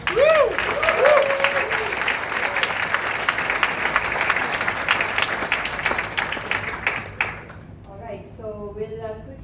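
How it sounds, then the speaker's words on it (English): An audience at an entrepreneurship workshop gives a round of applause, dense clapping that fades out after several seconds, followed by a voice speaking. "can we give him a big round of applause?"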